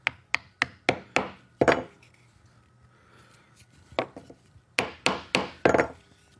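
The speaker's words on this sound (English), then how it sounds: "Tap in the domino." Sharp wooden knocks ring out as a wooden domino tenon is tapped into a joint, two quick bursts of five or six hits each with a quiet gap between.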